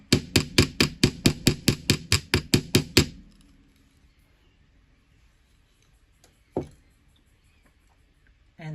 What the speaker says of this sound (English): And then give this a good hammer down there if you want the hammered look.